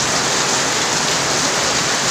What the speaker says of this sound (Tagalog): Yan guys, sobrang lakas ngayon ng ulan dito guys.